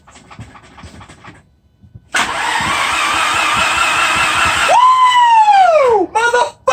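Porsche 944 with a 1.8t engine cranks over with a whirring starter, then catches and runs, roaring steadily before revs rise and fall sharply toward the end.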